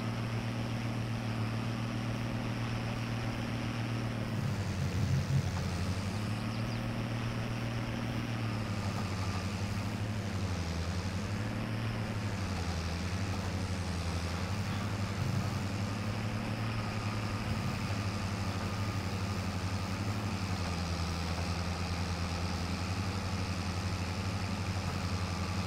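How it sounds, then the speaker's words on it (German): A tractor engine in Farming Simulator 22 drones at a steady low idle with a deep, slightly wavering hum and a faint whine above it, continuous and alone without any voices. "machen diese Geräusche ein bisschen Sorgen, die der Trecker hier macht"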